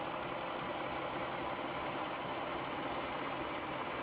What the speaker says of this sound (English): the engine is still humming quietly and still using a little bit of energy